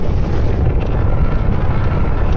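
An atomic bomb explodes near Godzilla, heard as a loud, continuous deep rumbling roar that stays heavy and unbroken from start to finish.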